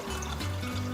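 Warm water for a sourdough recipe is poured into a container set on a kitchen scale, a short, steady splashing pour whose pitch rises as the vessel fills, heard alone without talking.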